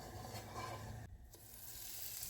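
Sugar melting and sizzling in a dry frying pan for apple caramel, a steady close crackling hiss that continues without pause and with no voices.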